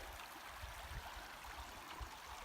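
A stream of water in a national forest, heard as a faint, steady rushing and burbling with no other sounds over it.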